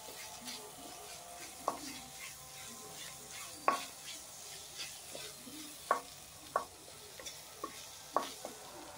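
Prawn masala with turmeric stirred and fried in a pan, a steady low sizzle under sharp scraping clicks of a spoon at irregular intervals, close and moderately quiet.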